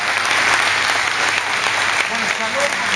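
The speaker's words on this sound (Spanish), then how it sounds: "Más fuerte el aplauso" An audience at a school event claps loudly and steadily, a dense continuous wash of hands with a voice briefly heard over it.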